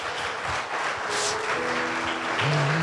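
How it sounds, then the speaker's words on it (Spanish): Congregation at a church service applauding for the Lord, a steady wash of clapping held at even loudness throughout, with organ or keyboard tones sustained underneath. "Denle un fuerte aplauso al Señor"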